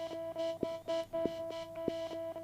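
A short, clicky layered 808 kick sample repeating in a steady rhythm, each hit trailed by a faint delay echo over a sustained tonal hum.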